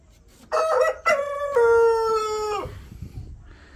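A rooster crows loudly and close by, one long drawn-out cock-a-doodle-doo, followed by quieter background rustling.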